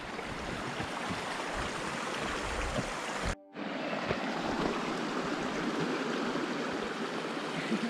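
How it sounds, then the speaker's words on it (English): Water rushing steadily over rocks at a stream crossing on a shaded trail, a loud, continuous broadband wash that stays close and constant, broken only by a brief dropout partway through. "First water crossing."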